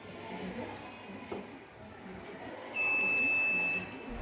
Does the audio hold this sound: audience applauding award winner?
no